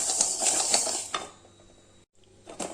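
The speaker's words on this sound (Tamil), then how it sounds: "இந்த சிவப்பு கவுனியை நல்லா வறுத்துக்கலாங்க" Red kavuni rice is dry-roasted in a pan, giving a few close metallic scrapes and clinks of a utensil against the pan, followed by a quieter stretch and a final clatter.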